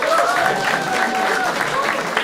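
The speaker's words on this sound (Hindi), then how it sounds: "ताली बजाएंगे मैम के लिए" Steady audience applause from a studio comedy-show crowd, continuous and fairly loud for about two seconds, with a faint whistle-like tone running through it.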